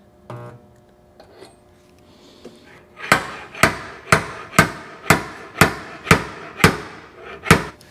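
A slide hammer yanks on tabs welded to a dented car fender in high-tension metal, delivering about ten sharp metallic strikes in a steady rhythm, loud and close, after a quiet start.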